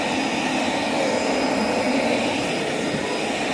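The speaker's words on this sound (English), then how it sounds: "Okay, let's try a nice basic Hoover." A basic Hoover vacuum cleaner runs steadily at close range, a continuous loud whirring motor drone with airy rushing suction and no breaks or talk.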